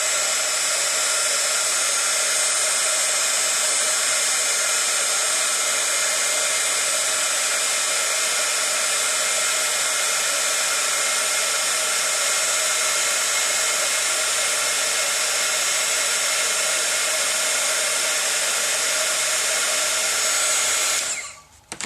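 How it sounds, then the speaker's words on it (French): A heat gun blows hot air over gold embossing powder on a cream-and-blue wedding invitation card, a loud, steady whooshing roar held for about twenty seconds before cutting off abruptly at the end. "je vais maintenant chauffer au pistolet à air chaud pour que l'embossage se révèle"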